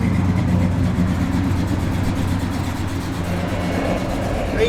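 A 1957 Chevrolet Bel Air engine with a lopey cam runs steadily close by, its uneven loping rumble holding throughout.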